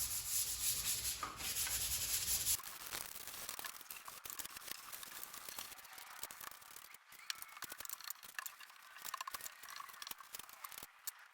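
A painted bureau being sanded by hand, with close, brisk rhythmic rubbing strokes that continue throughout after a louder opening burst of noise.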